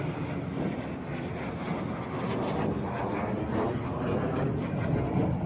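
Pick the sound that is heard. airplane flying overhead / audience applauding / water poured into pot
airplane flying overhead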